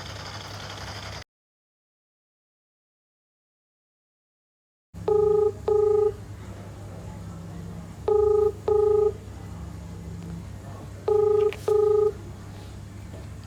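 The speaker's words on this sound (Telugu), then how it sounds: "సర్లే, జూనియర్కి కాల్ చేయి" A telephone keypad dials out to make a call, with three pairs of short touch-tone beeps spaced a few seconds apart over a low steady hum, after a brief silent gap.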